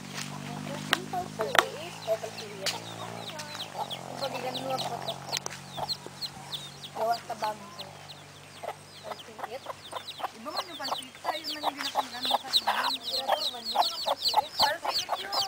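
A hen and her chicks cluck repeatedly at close range, soft peeps and clucks scattered throughout, with quiet background voices.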